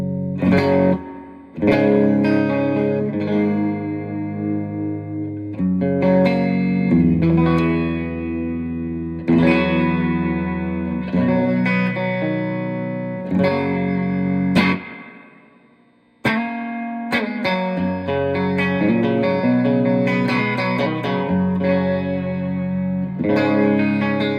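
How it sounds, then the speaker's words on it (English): An electric guitar played through a Milkman Sound The Amp 100 amplifier on the middle pickup with reverb added, ringing chords and single notes with lingering reverberant tails, a brief pause near the middle before playing resumes. "Let's add the reverb in."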